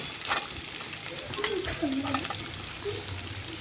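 Potatoes fry with green chili and curry leaves in a pan for sabudana pulao, and the mix is stirred. A close, continuous sizzle comes with scraping stirs and a brief murmur of a voice.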